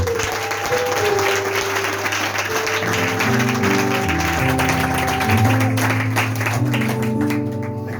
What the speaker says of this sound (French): Acclame maintenant pour la gloire de Jésus.